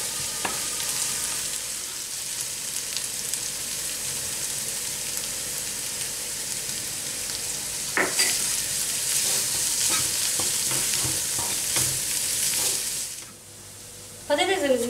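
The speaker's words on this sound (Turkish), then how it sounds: "Patatesimizin içine soğanımızı ekliyoruz ve karıştırıyoruz." A spoon stirs an onion and spice mixture into potatoes in a hot pan, with steady close sizzling and intermittent scraping knocks, and a brief clatter near the end.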